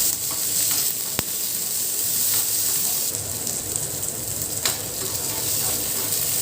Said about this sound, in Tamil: அதோட ஒரு மீடியம் சைஸ் தக்காளியை சேர்த்து வதக்கிக்கலாம்